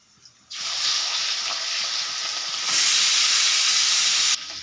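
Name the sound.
murul fish frying in oil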